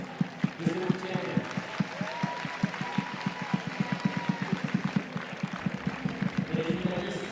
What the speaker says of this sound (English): On va encore applaudir bien fort nos athlètes de ce week-end.